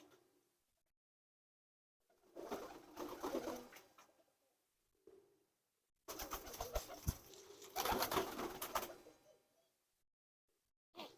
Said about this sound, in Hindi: ये माशाल्लाह कबूतर हैं अभी भाई के, इमाम दीन कबूतर